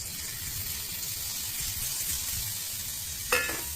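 Val (hyacinth bean) pods go into a hot tempering of oil and spices in a pan. A steady, even sizzle rises into a sharp, louder hiss near the end.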